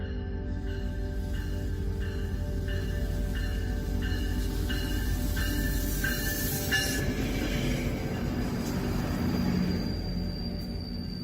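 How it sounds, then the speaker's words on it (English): A train arriving in Ottawa rumbles steadily, with a run of rhythmic wheel clicks over the rails and a faint metallic squeal, loud and close, with no voices. "And so the train arrived in Ottawa."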